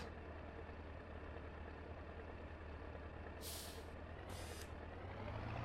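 Air brakes on a truck in Farming Simulator 19 let off two sharp, loud hisses as the handbrake is released, each about half a second long, over a steady low engine rumble.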